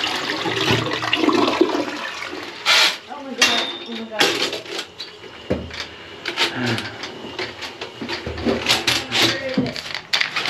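A clogged toilet is flushed, with gurgling water and clattering bathroom noises amid people talking close by.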